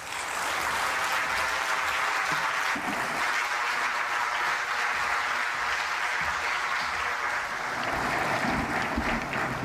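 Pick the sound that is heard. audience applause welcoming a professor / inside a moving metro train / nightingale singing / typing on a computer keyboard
audience applause welcoming a professor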